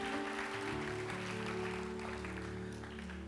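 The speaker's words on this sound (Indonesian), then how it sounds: "Yang percaya kita berikan tepuk tangan bagi Tuhan kita" A youth church congregation at a worship service claps for God, a steady wash of applause blended with sustained keyboard or organ chords droning underneath, moderately loud and unbroken throughout.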